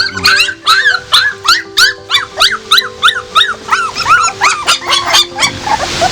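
A puppy whimpers and yelps in a quick, steady series of high-pitched cries, close by, with a faint constant hum underneath.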